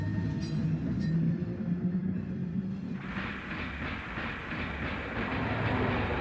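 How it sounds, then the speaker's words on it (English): An electric passenger train rumbles and clatters steadily along street tracks in Oakland, turning off 22nd Street onto Poplar Street, with rhythmic clicking of wheels over rail joints and a constant hiss. "A B-line train turns off of 22nd Street to head down Poplar Street."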